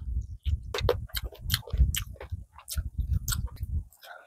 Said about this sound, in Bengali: প্রথমে লাউ চিংড়ি দিয়ে খেয়ে নেব।